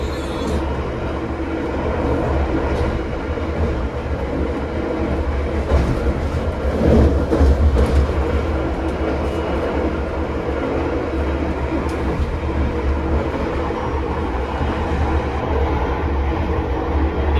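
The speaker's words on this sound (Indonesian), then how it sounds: "Jadi Taksaka ini termasuk kereta yang ngebut" KA Taksaka passenger train running at high speed after leaving Yogyakarta, a steady loud interior rumble of wheels on rails with broadband roar and occasional clatter throughout.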